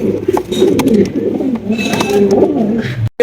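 Fancy pigeons such as Lahori and Danish breeds coo loudly and continuously up close, several birds overlapping in throaty rolling calls with faint voices nearby.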